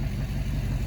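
A Honda S2000 engine that is being brought back to life runs at a rough, unsteady idle, giving a continuous low mechanical drone with a slight clatter and no pauses.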